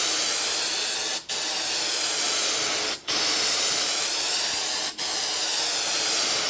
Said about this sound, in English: I just sprayed this in the morning